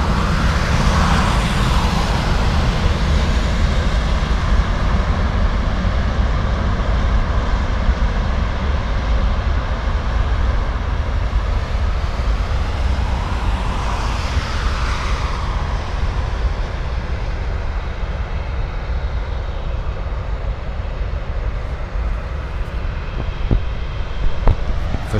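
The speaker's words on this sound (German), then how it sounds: "Sind ja offenbar die Triebwerke." Jet engines of an airliner on Runway 18 at Frankfurt Airport give a loud, continuous roar that holds steady for the whole stretch and fades slightly toward the end, with no talking.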